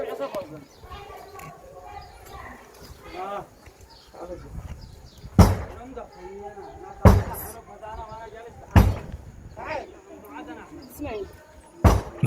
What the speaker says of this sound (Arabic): محاولة كسر الباب.